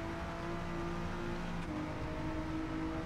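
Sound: Honda NSX engine revving in video game Gran Turismo 7

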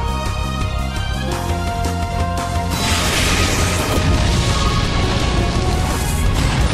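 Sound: explosion in Pokémon Battle Revolution video game

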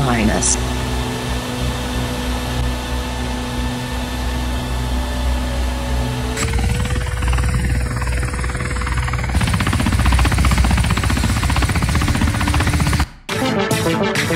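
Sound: rescue helicopter flying, cartoon

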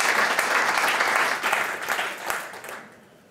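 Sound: audience applause

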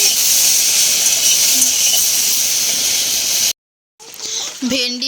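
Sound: okra frying in a pan

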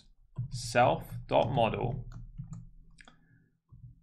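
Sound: typing on a computer keyboard

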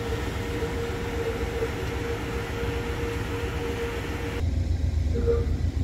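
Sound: Amtrak Coast Starlight train standing at a station

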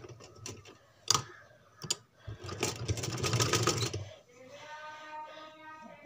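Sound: sewing machine stitching a baby frock frill

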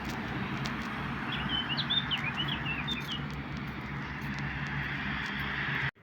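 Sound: birds singing in the morning

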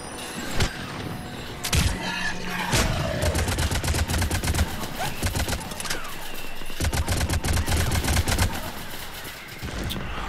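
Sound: gunfire in the video game Mass Effect 3

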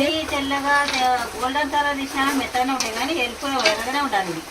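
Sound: jaggery gavvalu deep frying in oil

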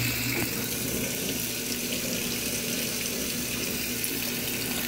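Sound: GE washing machine filling with hot water

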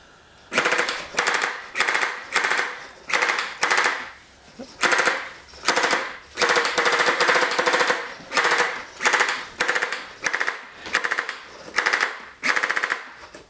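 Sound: laser-cut toy sentinel turret gun firing while tracking

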